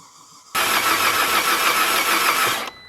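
An Audi engine is cranked by its starter with the fuel pump and coils disconnected to build oil pressure. A loud, close, steady mechanical whir runs for about two seconds without firing, then stops.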